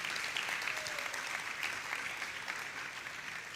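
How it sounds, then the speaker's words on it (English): Audience at a spiritual talk applauding a guest speaker, a dense, even patter of clapping from a crowd, moderately distant and steady throughout. "Let's have a big round of applause for our guest today."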